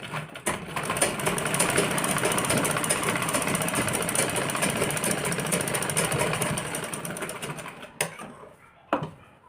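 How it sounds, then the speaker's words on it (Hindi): A sewing machine stitches blouse fabric in a steady, dense mechanical whir that runs for several seconds, then stops, followed by a couple of sharp clicks. "ये देखिए अब हम इसको ऐसे सिलाई मार लेंगे।"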